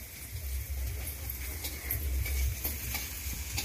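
Onions sizzle in a hot pan while a utensil stirs them, giving a steady close frying hiss with light scraping taps throughout.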